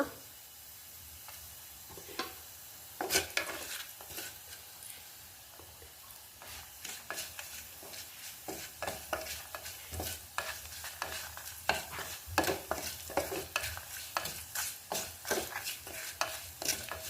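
Asafoetida tempering in hot oil for a coconut-free buttermilk curry, sizzling steadily while a spoon stirs through it, with sharp scraping clicks against the pan coming in irregular bursts; close and fairly quiet, with no talk.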